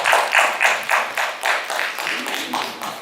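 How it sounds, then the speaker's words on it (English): A conference audience gives a round of applause as a series of fairly even, rhythmic bursts of clapping. The sound is steady and moderately loud throughout. "Please, can we celebrate Rotimi Olorunfemi one more time with a round of applause?"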